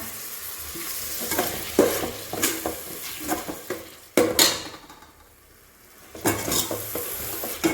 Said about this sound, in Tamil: இதில் நான் கொஞ்சம் தக்காளி ஆட் பண்ணிக்கிறேன்